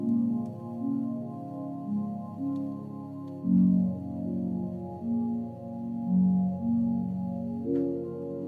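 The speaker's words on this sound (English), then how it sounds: "and then I just changed the instrument to a pad." Mellow ambient synth pad holding sustained low chords that shift every couple of seconds, washed in reverb and filtered to keep mostly the low end, calm and alone without any voice.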